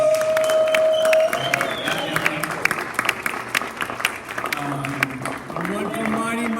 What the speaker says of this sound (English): Can I give a round of applause for the president of Poetry Center San Jose